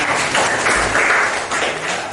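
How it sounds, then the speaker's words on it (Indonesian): A classroom group claps together after a teacher asks for applause, a dense, even patter of many hands that holds steady for a couple of seconds close by. "Berikan tepuk tangan."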